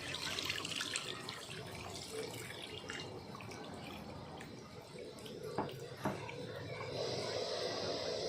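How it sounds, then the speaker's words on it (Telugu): Tamarind juice poured into a simmering vegetable curry, a steady close trickle of liquid running for several seconds and growing fuller and louder near the end. "చింతపండు రసం పోస్తాను."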